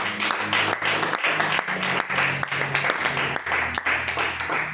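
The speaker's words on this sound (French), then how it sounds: "Nous acclamons le Seigneur." A church congregation applauds in worship, a steady, fairly close wash of many hands clapping, with rhythmic pulses under faint musical tones.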